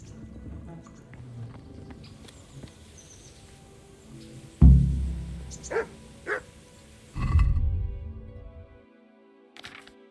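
Dogs barking in Kingdom Come: Deliverance, a few loud, close barks and yips in a medieval outdoor setting, with quiet speech and ambient background around them.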